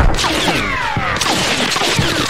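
Secondary explosions from a missile-struck anti-air vehicle in Arma 3, a dense close crackle of popping bursts and sharp cracks firing rapidly in irregular succession.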